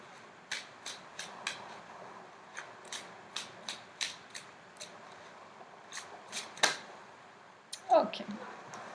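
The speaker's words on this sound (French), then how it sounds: "Je vais sortir 3 cartes." Tarot or oracle cards being drawn and laid down from a deck, a series of soft crisp slaps and flicks at irregular intervals, close and quiet, ending with a longer rustle.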